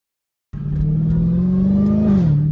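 Dodge Challenger Hellcat Redeye with an 800 hp engine under throttle, a loud, close roar that starts abruptly, climbs steadily in pitch, then eases off, with no voices over it.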